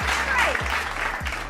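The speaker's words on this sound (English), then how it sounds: "Come on now, clap it up." An audience claps steadily in a short burst of applause, with a voice talking over it.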